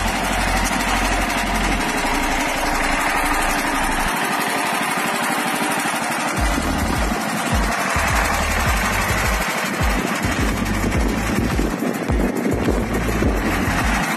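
A walk-behind motoblock tractor pulling a trailer loaded with boards, its small engine chugging and rattling loudly up close with an uneven, knocking rhythm as it travels.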